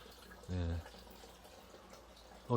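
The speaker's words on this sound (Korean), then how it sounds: "개울에 설치되어 있는 무동력 펌프로 지금 물 받고 있는 거예요" Water from a non-powered stream pump runs through a 30 mm pipe into a tank in a greenhouse, a faint steady trickle under soft talk with short bursts of speech.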